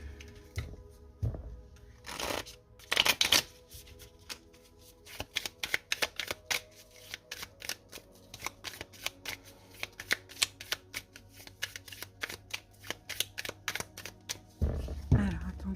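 Tarot cards being shuffled by hand, a run of crisp riffling flutters and sharp card snaps repeating at close range, with quiet gaps between bursts and no speech.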